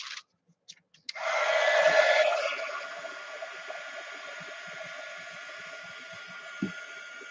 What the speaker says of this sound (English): Now my heating embossing tool.